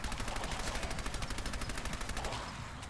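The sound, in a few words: gunfire in video game Fallout 4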